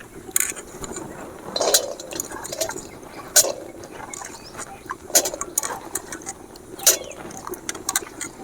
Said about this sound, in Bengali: এবারে ধুয়ে রাখা ছোলাগুলো আমি দিয়ে দেব।